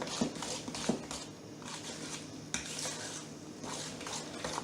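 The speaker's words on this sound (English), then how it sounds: "Mix it up real good." A spoon stirs boxed cake mix batter with cherry pie filling in a bowl, giving faint, irregular scraping and clinking strokes, close and quiet, with no voices.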